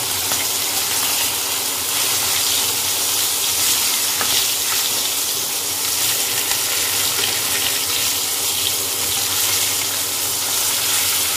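Fish fries in a hot pan with a loud, unbroken sizzle and crackle that holds steady for the whole stretch, close up and with no voices over it.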